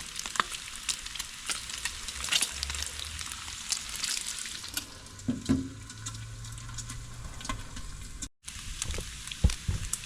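Thick bacon sizzling steadily on a Blackstone griddle outdoors, a close, continuous crackling hiss with scattered pops and a brief scrape, with no voices over it.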